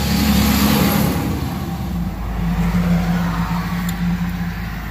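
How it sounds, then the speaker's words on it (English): A garbage truck passes nearby on the street, its engine a loud, steady rumbling drone that swells and eases slightly over several seconds, with no talk over it. "there's a garbage truck coming"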